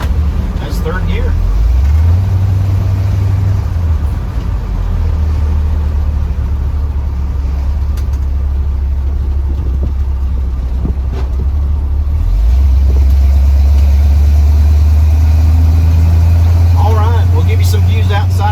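1970 Ford F100 truck engine pulling in third gear from inside the cab, a loud low droning rumble that dips and then climbs again as the truck accelerates.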